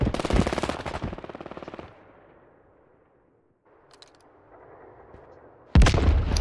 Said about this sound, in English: Oh, someone's shooting him.